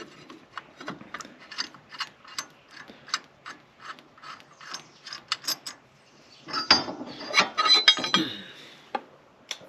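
A ratchet clicks steadily as it backs a bolt out of a split saw blade arbor, a close series of rapid pawl ticks in bursts that grow louder and busier toward the end, with no talking.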